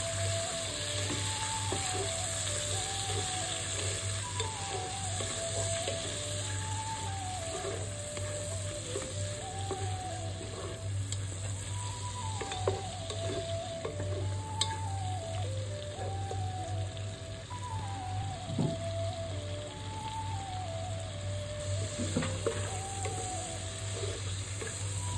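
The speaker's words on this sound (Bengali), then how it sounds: "পেঁয়াজ রসুনটা ভাজা হয়ে গেলে আমি দিয়ে দিব চিংড়ি মাছটা" Onion and garlic fry in a pan for a prawn and red amaranth dish, a steady, moderately quiet sizzle running continuously while repeated chirping calls and a faint hum sit on top, with no talking.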